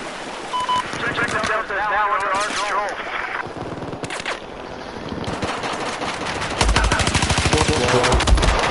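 MPX gunfire in the Battlefield 4 video game, bursts of rapid shots mixed with other battle effects while players talk over much of it, growing louder and denser near the end.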